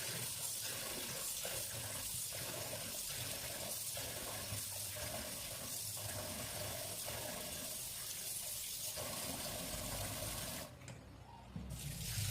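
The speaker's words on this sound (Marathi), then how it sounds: "भरपूर सारं पाणी मी आता ओतले आणि आता स्टार्टिंगलाच मी छान धुवून घेतले तांदूळ" Water running and splashing while rice is rinsed in a pot, a continuous hiss with rhythmic swishing pulses from hand stirring, then a brief drop in the flow near the end; faint and close.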